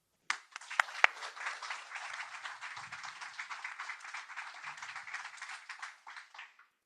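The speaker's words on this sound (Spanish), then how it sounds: "quiero que este aplauso sea para él, porque él es el corazón de este libro" An audience applauds at a book presentation, a soft, even patter of many hands clapping that starts abruptly, holds steady, then fades out.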